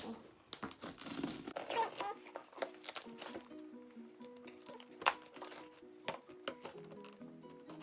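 Crinkling and tearing of a facial steamer's sealed packaging being torn open with a pen, with scattered sharp rips and rustles over several seconds, close by, with faint background sounds.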